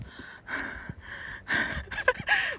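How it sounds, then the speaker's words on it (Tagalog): Heavy, ragged breaths come in several bursts, each a loud rasping pant with short pauses between, outdoors at Brady's Lookout, Tamar Valley, Tasmania. "Puro hingal na naririnig."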